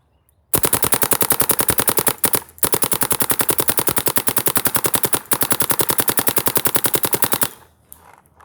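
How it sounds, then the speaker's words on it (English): A Geo 4 paintball marker with a JT Triad loader firing Empire Custom Blend paint in NXL ramp mode, long rapid-fire bursts of sharp, evenly spaced pops, loud and close, with two brief pauses between strings. "I'll do some shooting with the marker in front of the camera"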